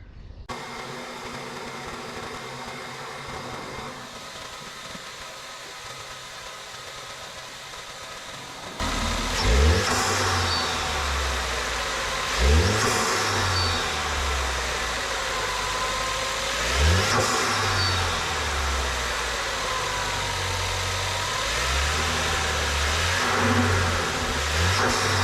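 A Mk3 Ford Focus ST engine runs at a steady idle, then after a pause it is revved repeatedly in several rising and falling surges over a continuous rumble, with induction noise audible and no talking.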